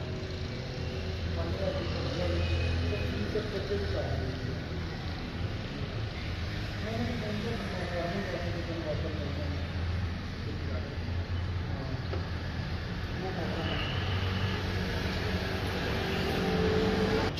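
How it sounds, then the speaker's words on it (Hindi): A YYO 4x4 tractor rumbles steadily while being driven, its low engine drone continuous beneath wind buffeting and someone talking over it. "4x4 ट्रैक्टर है"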